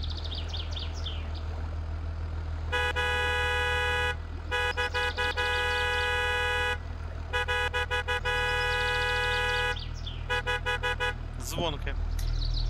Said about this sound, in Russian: Гудок звонкий.